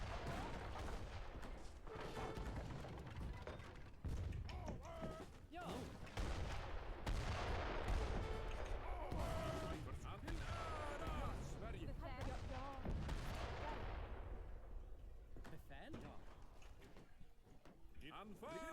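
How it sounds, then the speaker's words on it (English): In a video game, mortar and gunfire blasts keep hitting in quick succession, dense and fairly loud, under steady background game sound with talk mixed in. "That's a lot of mortars"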